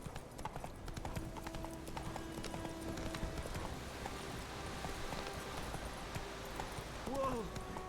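Roach, a horse in The Witcher 3, trotting with a quick regular clip-clop of hooves under soft game ambience, and a short whinny near the end.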